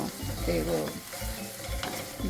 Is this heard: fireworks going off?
no